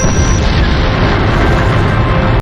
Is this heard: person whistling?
no